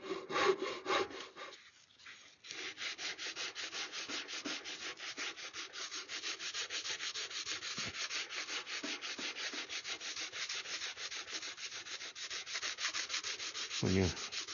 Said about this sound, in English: When you're sanding like this, you can actually feel it when you make a long stroke going across it.